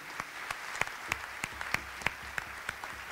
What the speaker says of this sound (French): Donc le lauréat de cette année 2018 est M. Bruno Nardeux, que je vous propose d'applaudir.